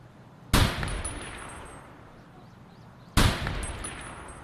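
Two loud, sharp gunshots from a video game roughly two and a half seconds apart, each followed by a long ringing decay over a background hum, with no talking.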